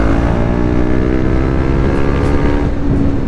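A KTM 390 Duke single-cylinder motorcycle with a decat exhaust revs hard, a loud, close, raspy engine note that climbs steadily for a few seconds with no talking.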